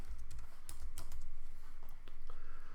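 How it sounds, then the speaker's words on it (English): Steady typing on a computer keyboard, close and fairly loud, with quick irregular key clicks throughout and no voices. "All I need to do now is type first name"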